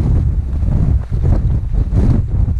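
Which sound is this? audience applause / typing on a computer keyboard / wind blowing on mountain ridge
wind blowing on mountain ridge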